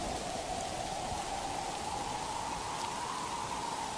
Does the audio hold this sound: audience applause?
no